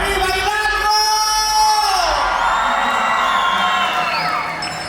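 Crowd at a huapango dance contest in San Felipe Orizatlán, Hidalgo, letting out a loud, sustained roar of shouts, whoops and cheers, with long held yells rising and falling together and slowly fading near the end.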